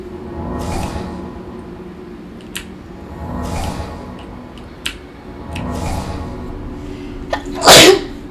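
Several sneezes from one person in a quiet room, spaced a couple of seconds apart, ending with a sharper, louder burst.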